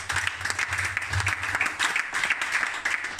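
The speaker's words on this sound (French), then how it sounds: "Est-ce qu'on peut acclamer le Seigneur?" A church congregation applauds and cheers to acclaim the Lord, sustained clapping filling the room with steady, dense texture throughout.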